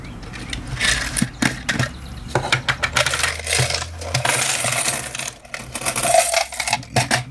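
Coins are dropped and placed by hand, giving a dense run of bright metallic clinks and jingles in quick irregular bursts, close and fairly loud, with no talking.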